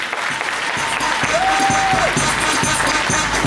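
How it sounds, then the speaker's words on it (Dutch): A live crowd at a fight event applauds both fighters after a bout, with steady dense clapping and some cheering filling the whole stretch, loud and close. "Een applaus voor beide vechters."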